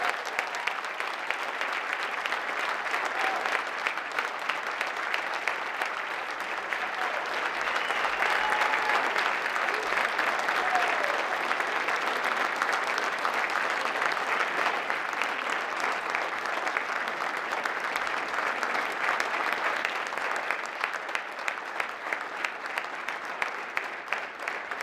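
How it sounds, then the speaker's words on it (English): A large ceremony crowd gives a long, steady round of applause for JROTC cadets at a Wreaths Across America event, dense continuous clapping holding at an even level throughout with no talk over it. "please give a round of applause for the Monty Tech JROTC cadets"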